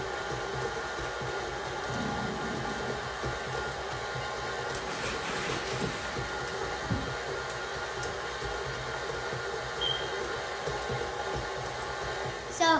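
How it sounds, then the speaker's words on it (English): Stand mixer creaming butter on slow speed for sugar cookies, a steady whirring motor drone that runs evenly and continuously, fairly close, with faint clinks. "So now we're just creaming up the butter"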